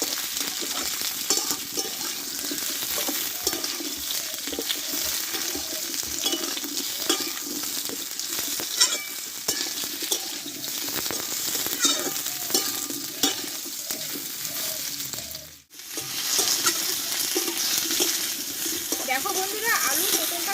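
Potatoes and pointed gourd sauté together in a pan for a vegetarian dish. They sizzle continuously up close with frequent stirring scrapes and light clinks, and a voice talks over the cooking for much of the time.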